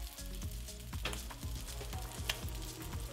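Crab cakes fry in a pan with a close, steady sizzle and crackle, joined by soft rhythmic scraping and tapping, with no voices.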